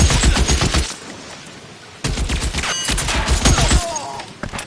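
Sustained bursts of rapid gunfire from a PS4 video game, loud and close, with dense overlapping shots broken by a brief gap before another heavy volley.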